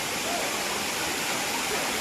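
Courtallam waterfall roaring in a steady, dense rush of falling water, close and loud with no pauses and no voices.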